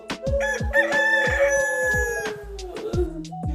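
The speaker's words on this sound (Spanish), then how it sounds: "Y de repente cantó un gallo." A rooster crow rings out over a rhythmic, repeating percussive musical backing with sustained tones, sounding staged rather than farmyard.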